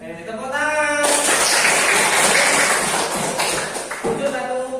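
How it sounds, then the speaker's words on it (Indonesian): A class of primary school pupils claps together in a classroom, a dense burst of applause that swells after a voice and fades near the end as talking resumes. "Tepuk tangan."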